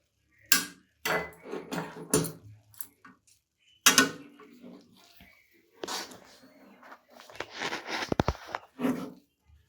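A peanut and roasted gram chikki mixture with ghee being stirred in a pan off the heat, with irregular close scrapes and metallic clinks of the spoon against the pan, separated by brief pauses.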